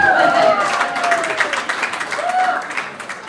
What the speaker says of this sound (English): Crowd up here, who can cheer the loudest?